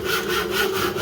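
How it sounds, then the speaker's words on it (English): Hand sawing of small treated timber pieces being cut to length in a blacksmithing shop, a close, loud rasp of continuous back-and-forth saw strokes with no talk. "let's chop these pieces to shape."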